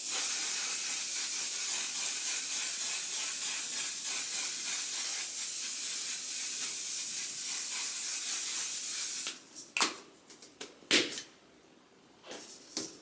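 Makeup setting spray misted onto the face in one long, continuous, close hiss, then a few short, sharp spritzes.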